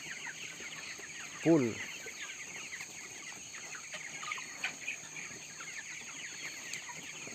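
Twenty-two-day-old broiler chickens in a poultry house of about 3,000 birds, some with snoring breath: one loud, close squawking call stands out over faint, constant flock chatter and a steady ventilation hum, with occasional speech.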